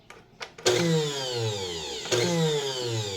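A blender with a busted coupler kicks on in short pulses on the pulse setting, whirring up twice after a couple of faint clicks.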